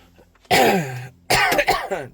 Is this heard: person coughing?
yes